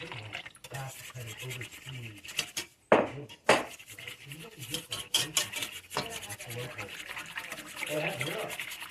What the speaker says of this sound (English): And we're going to keep whisking it up